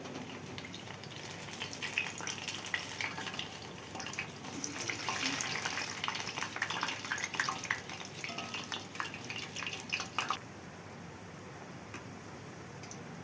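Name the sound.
garelu (lentil fritters) frying in oil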